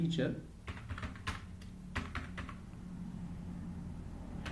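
Words are typed on a computer keyboard during a computer lesson, with a quick patter of light key clicks over the first couple of seconds that then gives way to a quiet room hum.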